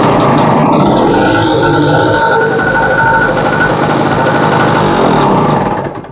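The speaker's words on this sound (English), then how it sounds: "So I'll kickstart the generator now to see." An old generator runs loudly and steadily with a rough, chugging engine drone close by, then the sound tails off at the very end.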